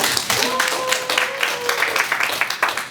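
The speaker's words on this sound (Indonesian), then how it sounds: "Oke, boleh tepuk tangan dulu?" Audience applause at a hackathon demo day winner announcement, a steady wash of clapping for three seconds with a brief tonal sound layered over the start.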